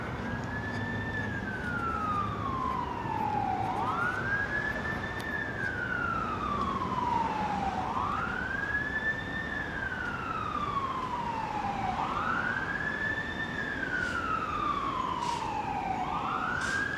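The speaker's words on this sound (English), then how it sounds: "There's a whole bunch of sirens going off." Emergency vehicle siren on Ellesmere Road in Scarborough, Toronto, a wailing tone that rises and falls in slow repeating sweeps over steady street noise, heard from a moderate distance.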